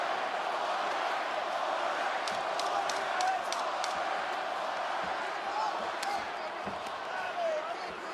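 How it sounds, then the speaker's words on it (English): A fight crowd cheers for Masvidal late in a UFC round, a steady roar of voices under a commentator's talk, with scattered claps and thuds. "Pro Masvidal crowd voicing their support late in the round."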